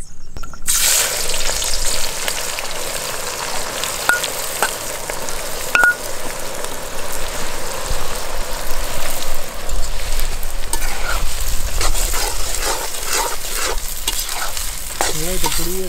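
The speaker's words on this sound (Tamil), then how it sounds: "இப்போ இந்த வெங்காயத்தை நல்லா எண்ணெயில் பொரிச்சு எடுத்துக்கு" Onions frying in hot oil while being stirred, a steady dense sizzle running throughout with scraping stir strokes and a few clicks over it, near and loud, no talking.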